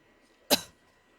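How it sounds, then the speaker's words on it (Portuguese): A single sharp cough bursts out once in a quiet room during a public-speaking class, then fades quickly. "Dá uma tossidinha."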